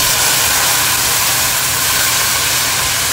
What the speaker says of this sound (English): I can hear the sizzle that I'm looking for